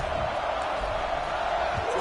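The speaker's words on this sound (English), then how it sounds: "this crowd is buzzing after that last score" A packed football stadium crowd against Miami roars and buzzes steadily after a score, a broad continuous wash of distant cheering with a commentator's voice over it.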